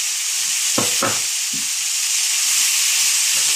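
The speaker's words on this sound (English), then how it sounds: "As it's frying up, so it has a little bit more of that flavoring" Salsa fries in a pan in a tiny home kitchen while burrito wraps are being made, giving a steady broadband sizzle throughout, with a few soft low stirring knocks near the start.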